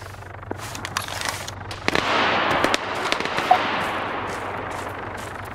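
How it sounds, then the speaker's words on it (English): A rocket launcher explosion in the military shooter game Arma 3 erupts as a broad rushing blast that rumbles on for several seconds, mixed with scattered distant gunfire cracks and pops. "Ooh, rocket launcher."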